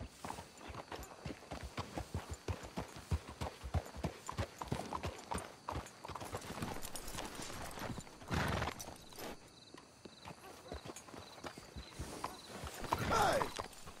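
Horse hooves clip-clop steadily in Red Dead Redemption 2, a rapid rhythmic patter of several horses walking, with a brief whinny and louder noise bursts midway and near the end.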